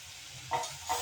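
Turmeric stirred into vegetables frying in a pan for a sandwich filling, soft sizzling under two quick scraping stirs of a spoon, close by.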